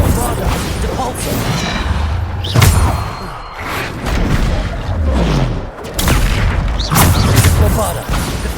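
Bombarda explosion spells going off in combat in Hogwarts Legacy: repeated heavy booms and crashing blasts at irregular intervals, loud and close, with speech in between.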